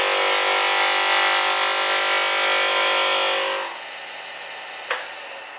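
A gouge cutting wood on a lathe with its bevel rubbing, a loud, steady, close whirring scrape that stops abruptly, leaving quieter hum and a single short knock.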